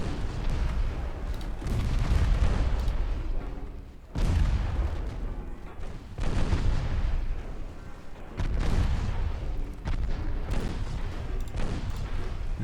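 Naval guns firing in a warship battle in Shell Carrier, with repeated heavy booms and rumbling blasts that come in dense waves and keep a loud, continuous roar of fire throughout.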